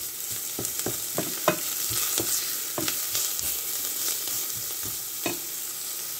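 Onions fry with salt in a pan for Bangladeshi polao, browning under repeated stirring: a steady sizzle broken by regular sharp scrapes and clinks of a spoon against the pan, close and clear.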